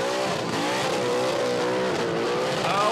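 A car at a Red CentreNATS burnout event holds its engine on the rev limiter with a loud, sustained stuttering roar while its shredding tyres squeal continuously, close and dense throughout.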